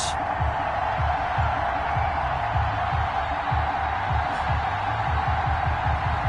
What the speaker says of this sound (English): This crowd is ready as their guys get set to match up between the Detroit Lions and the Green Bay Packers.